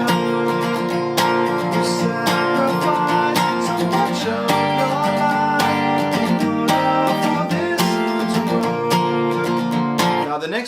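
Guitar plays the main verse riff of a song, steady ringing chords and picked notes with occasional sharp strums, loud and close with no talk over it.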